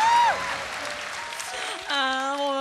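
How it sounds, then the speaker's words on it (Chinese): A studio audience claps briefly and fairly loudly. The applause is mixed with a voice and the sound of a lively variety-show stage, and it thins out under tonal music toward the end. "是不是要掌声给他鼓励一下？"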